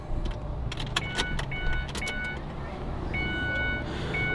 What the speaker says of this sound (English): I'll go ahead and I'll put it in the ignition and turn it on.